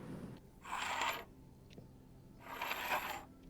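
Gold coins dropping as a payment sound effect, two bursts of bright metallic jingling a couple of seconds apart, clear and close against a quiet background.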